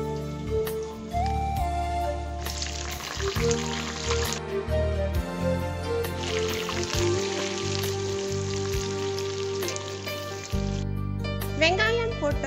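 Cinnamon and whole spices sizzle in hot oil for a vegetable kurma, with steady frying hiss swelling in two long stretches over tonal background music.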